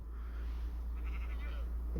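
A sheep bleats in a few wavering calls over a steady low rumble, fairly close.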